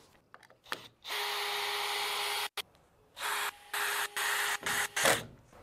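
A magnetic cordless screwdriver driving screws during roof ridge and wall-plate installation whirs in several bursts, one long run followed by shorter pulses, loud and close with brief pauses between.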